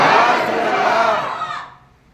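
A large crowd at a religious gathering roars a chant together in one loud, dense burst of many voices. It holds for over a second and then fades quickly into quiet.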